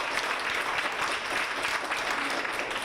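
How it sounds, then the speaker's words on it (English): A room full of people at a community stakeholders meeting in Pittsburgh claps steadily throughout, a dense, even round of applause at moderate distance. "if we could give them a round of applause."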